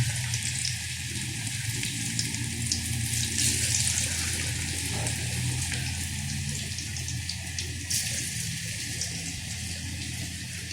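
Bottle gourd pakora batter dropped bit by bit into hot oil, giving a steady, close, hissing sizzle with brief bursts of crackle throughout and no talk.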